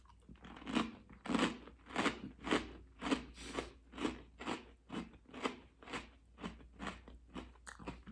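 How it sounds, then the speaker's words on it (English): Crispy garlic snack from a Ukrainian snack box being eaten, about a dozen sharp, close crunches in a steady chewing rhythm, loud and alone. "I assume you can really hear that crunch."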